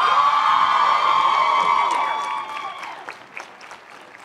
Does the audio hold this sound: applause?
yes